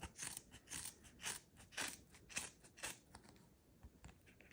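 Scissors snip through the rubber sheet of a ping pong paddle in a quick, uneven series of close, faint crunching cuts, with short pauses between bursts and no talking.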